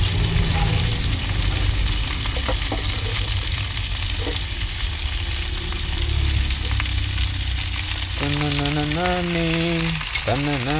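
Onions sauté in a pan for a Tamil egg gravy, a loud continuous sizzle with occasional light stirring, and short tonal voice-like sounds near the end.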